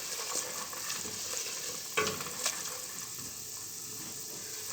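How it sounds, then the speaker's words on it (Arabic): A thick sweet mixture stirred continuously in a cooking pot, a steady soft hiss and bubbling with faint scraping strokes and one clearer knock near the middle. "ادينا كده مستمرين في التقليب، ايدنا كده ما توقفش في التقليب"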